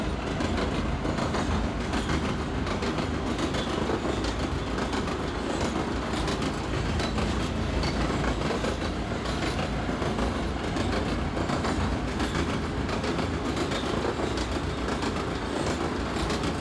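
A subway train in the OpenBve simulator game, an R142A on the 4 line, runs steadily with loud, dense rumble and rhythmic clickety-clack of wheels on rails throughout, with no voices.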